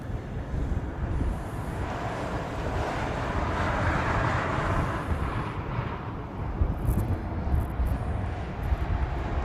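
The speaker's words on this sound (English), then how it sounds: "The next one out will be a Southwest heading off to San Jose" A Southwest airliner bound for San Jose taking off from the reef runway at Honolulu, a loud sustained jet engine roar with wind rumble and no pause.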